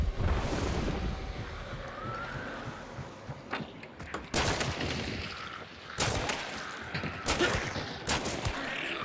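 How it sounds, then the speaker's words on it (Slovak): Gunfire from the game Hunt: Showdown: several sharp shots crack out over wind-like background noise, some near and some more distant, with a short burst near the start and scattered single reports later. "lebo ste počuli výstrel"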